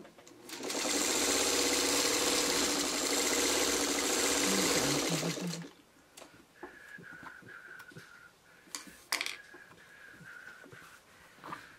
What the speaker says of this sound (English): I'm going to sew these two together, because then I can get this one off.